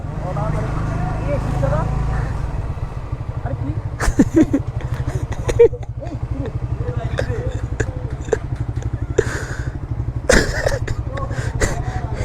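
A motorbike ridden without a helmet putters along with a steady low engine rumble throughout, close and fairly loud, with people talking over it and occasional sharp clicks and bumps.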